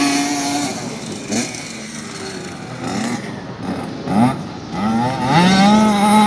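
A motocross motorcycle engine on a practice track revs and falls as the rider goes through a turn, its buzzing pitch swooping up and down, with moderate loudness and some distance.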